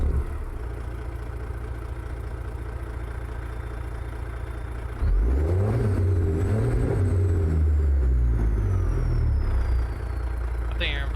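A Peterbilt truck with a Detroit 60 series engine in a truck simulator game cranks and fires up, a steady idle giving way to a loud start with rising revs and a high whine, then settling into a rumbling idle.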